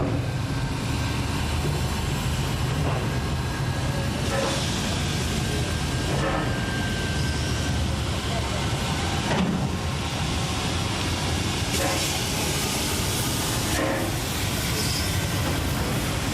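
A steam locomotive at Montluçon, France gives a continuous loud rumble with hissing and clanking, broken by periodic metallic knocks and a faint squeal.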